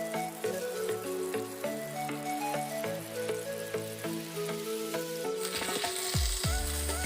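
Masala-coated fish frying in oil on a low flame gives a steady, close sizzle throughout, with background music running over it and no talking.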